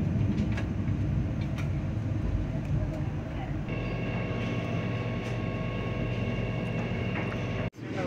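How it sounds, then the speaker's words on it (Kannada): A Vande Bharat express train rolls toward Ottapalam station in rainy weather, a steady loud rumble with rattling and a faint whine heard from inside, while someone talks over it. "ನಮ್ಮ ಟ್ರೈನ್ ಇವಾಗ ಓಟುಪಾಳ್ಯಂ ಅನ್ನೋ ಸ್ಟೇಷನ್ ಹತ್ರ ಬಂದಿದೆ"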